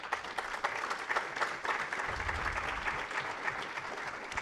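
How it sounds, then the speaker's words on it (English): A technology security talk audience applauds, steady moderate clapping for the whole stretch, even and sustained with a bit of low rumble partway through. "Let's just give a round of applause"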